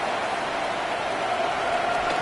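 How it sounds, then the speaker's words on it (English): Steady rain falling over an outdoor football stadium during the second half, a dense, even hiss that holds constant throughout with no talk. "The rain set to continue as we are underway in the second half."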